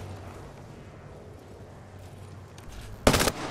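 Gunfire in the Halo Arena video game, a short loud burst near the end after a stretch of quieter game ambience.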